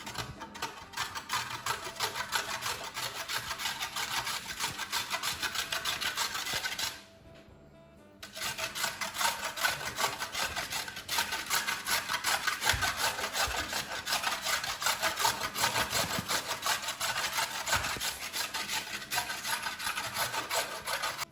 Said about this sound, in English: we're going to use this side to grate our carrot.